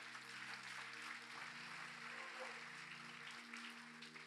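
A church congregation applauds together during a Spanish-language sermon, a broad, even wash of clapping over a sustained organ or keyboard chord ringing through the sanctuary.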